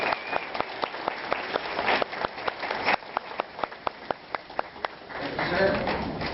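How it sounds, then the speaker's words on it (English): A small audience claps for a graduate receiving a cosmetology certificate, with distinct, steady handclaps in a room, fairly faint and continuous over several seconds, with a murmur of voices underneath. "Let's give him a round of applause"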